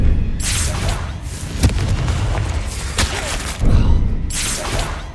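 Loud, booming blasts from the Confringo fire spell in the Hogwarts Legacy video game, heavy explosions with crackling debris and rumbling tails, one burst near the start and another toward the end.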